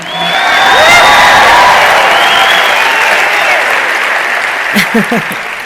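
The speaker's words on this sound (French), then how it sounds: "je vous prierai de m'applaudir ce matin pour avoir terminé mes études dans la vie" Large audience at a sermon applauding, loud sustained clapping with cheers and a few whoops, steady throughout with brief voices near the end.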